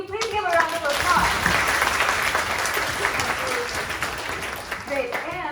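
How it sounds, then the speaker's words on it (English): Sustained applause fills a room at a Microsoft student ambassadors event, many hands clapping together at an even level, with a few faint voices audible near the start and the end. "Can you please give a round of applause?"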